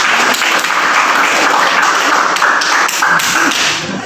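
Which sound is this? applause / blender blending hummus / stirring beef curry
applause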